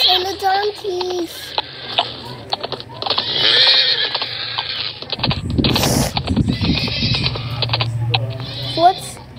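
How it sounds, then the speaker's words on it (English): Zebras and donkeys at a zoo, with braying and whinnying calls and some hoof clatter and creaking nearby, while people, including a child, talk throughout. "Zebras and the donkeys."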